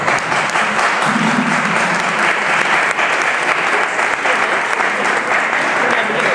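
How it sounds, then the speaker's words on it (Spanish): An audience gives loud, sustained applause for a guest at a presentation, dense clapping close by with a faint voice briefly underneath. "¡Aplausos!"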